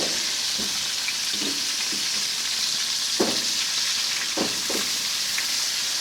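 Rabbit meat sizzling over heat, a loud steady frying hiss with occasional soft pops and crackles, close up and without talk.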